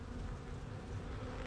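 A dense, steady buzz of honey bees fills the air as frames are pulled from the hive, low and constant at close range, fairly soft, with no talking.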